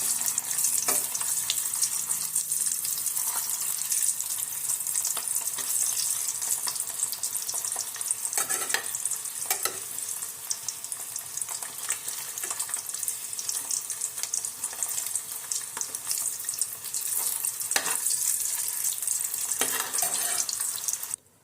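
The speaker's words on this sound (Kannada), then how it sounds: "ನೀರು ಕುದಿಯಾಕತೈತ್ರಿ" Water bubbles and hisses steadily in a pot at a rolling boil for egg biryani, a close, continuous seething with occasional louder pops.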